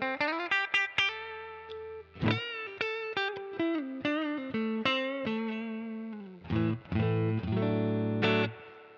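Guitar played through the clean channel of a Koch Studiotone 20 head with onboard spring reverb: a run of picked single notes, then a few ringing chords, clean and close with a soft reverb tail, no voices.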